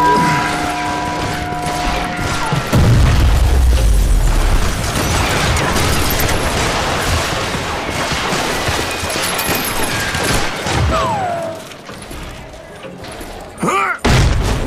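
Gunfire in the Wild West shooter Call of Juarez: Gunslinger: a loud, dense, sustained barrage of shots with mechanical clatter, thinning into a short lull and a final sharp shot near the end.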